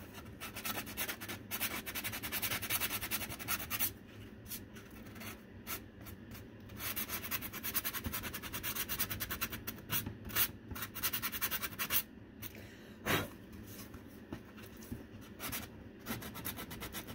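Steady scratchy rubbing of a Dollar Tree sanding sponge worked back and forth over a St. Patrick's Day craft piece, close and continuous with brief pauses between strokes, no talking.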